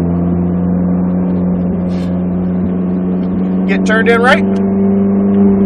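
A Ferrari 458 engine drones steadily inside the cabin on a race track at Speed Vegas, a loud, even hum with a short rising rev partway through as an instructor talks over it.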